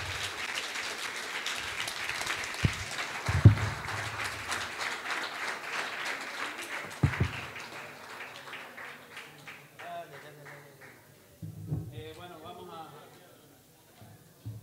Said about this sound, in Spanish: Denle un aplauso al Señor bien fuerte en este momento